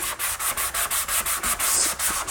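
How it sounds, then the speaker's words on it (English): A kitchen sink is sanded by hand with coarse 60-grit sandpaper in quick, even back-and-forth strokes, about a dozen rasping passes, close and loud, with no talking. "So I'm gonna do two levels of sanding. This is a very coarse."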